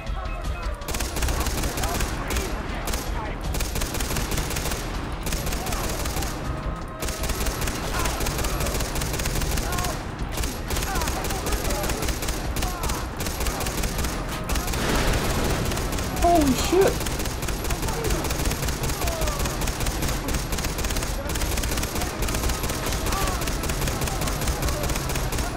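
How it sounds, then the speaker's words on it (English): Mounted turret machine gun in Far Cry 3 rattling off sustained bursts, dense and continuous across the whole stretch, with heavy low rumble and scattered booms mixed into game noise. "Oh, you want me to start the machine gun?"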